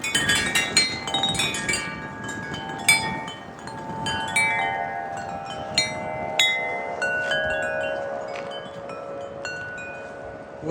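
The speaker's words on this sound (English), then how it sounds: "There might be a little gust coming." A gust of wind on a windy day after rain rushes steadily past the microphone. Bright metallic clinks and chimes ring out over it at irregular moments.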